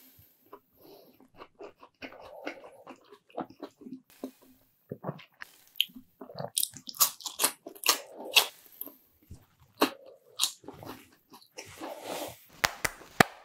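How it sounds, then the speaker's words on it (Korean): A Lotteria Sweet Earth Awesome burger, a soy-patty burger, is bitten and chewed up close, with soft squishy mouth sounds, crisp crunches and wet smacks in an irregular rhythm, mostly with no talking. "맛있게 한 입."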